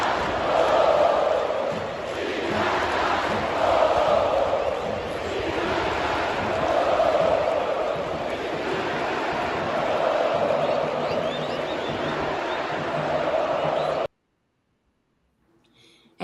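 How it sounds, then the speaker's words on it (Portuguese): Palmeiras football fans in a packed stadium chanting steadily in unison, a broad roaring crowd sound that holds for about fourteen seconds and then cuts off. "É isso, a torcida começa a cantar"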